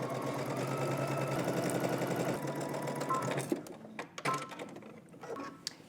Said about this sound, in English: Now we're gonna head to the sewing machine, and just like we did for the back, we're gonna go ahead and stitch using 5/8 of an inch seam allowance.